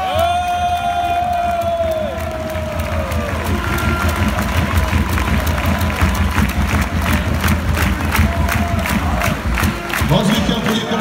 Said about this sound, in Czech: určitě jim strašně rádi zatleskáme